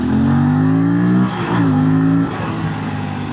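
An Aprilia RS 457 motorcycle accelerating hard in sport mode on a city road, its engine note rising in loud, close, raw pulls through two gear changes with no talk.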